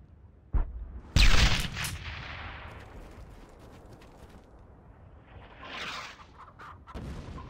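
A grenade blast and rifle fire in the World War II shooter Brothers in Arms: Hell's Highway: a sharp shot, then a loud booming explosion that rumbles and fades, with a later swell of distant battle noise and another shot at the end.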